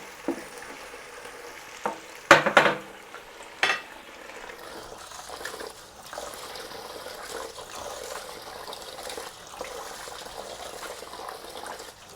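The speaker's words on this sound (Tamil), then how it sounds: "வெங்காயம் நல்லா பொரியட்டு. வெங்காயம் பொன் நிறத்தில் வரணும்" Onions frying in hot oil for chicken biryani: a steady soft sizzle with a few sharp clacks and scrapes of stirring near the start, then continuous gentle frying crackle close by.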